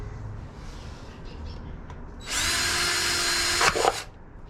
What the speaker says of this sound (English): drill a hole for drainage